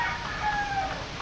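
A chicken gives short clucking calls close by, brief tonal notes over a low steady background hum.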